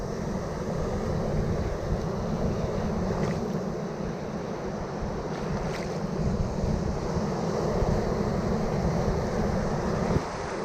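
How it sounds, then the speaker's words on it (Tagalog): Strong ocean waves surge and wash at a fishing spot, a loud, continuous roar of surf mixed with gusty wind buffeting the microphone, with no pauses throughout. "So malakas yung alon mga idol, mga master."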